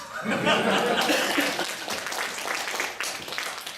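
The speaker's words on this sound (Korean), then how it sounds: "이럴 때 박수 쳐야 돼." An audience breaks into clapping mixed with chuckles, loudest at the start and then tapering off, with a voice speaking over the crowd.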